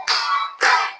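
Two sharp bursts of children clapping hands together in a classroom, a loud pair of claps about half a second apart with no talking.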